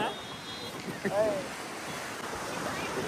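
Sea waves washing onto the shore in Mumbai: a steady, broad rush of surf mixed with wind noise, fairly close and continuous throughout, with faint voices nearby.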